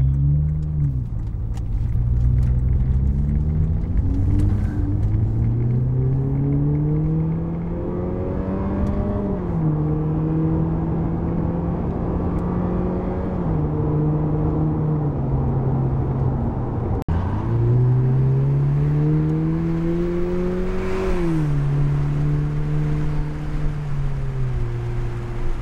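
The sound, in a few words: car exhaust revving, windows up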